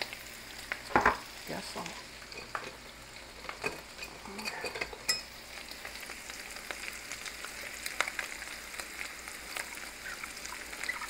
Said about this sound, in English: Stir in my tomato soup.